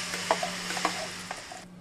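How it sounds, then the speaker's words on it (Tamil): Ground banana paste hitting a pan of hot ghee while making banana halwa, giving a soft steady sizzle with a few light stirring clinks near the pan, no voices. "அதே பேனில் நம்ம அரைச்சிட்டு வந்ததை ஊற்றிக்கலாம்."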